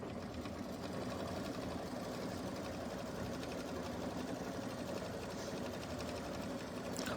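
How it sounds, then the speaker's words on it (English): A sewing machine stitches free-motion squiggle quilting across split heart fabric coasters, a continuous fast rhythmic hum and needle chatter held at an even, moderate level throughout. "we're going to do the little squiggles for the quilting in the background"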